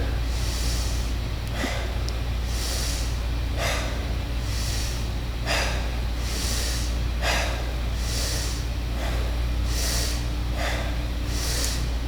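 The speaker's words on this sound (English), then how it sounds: "begin deep full breaths, connected, no top and no bottom, circular breathing" Deep, connected circular breaths in a breathwork exercise, loud and close, a steady rhythm of about seven forceful inhale-exhale cycles with no pause between them.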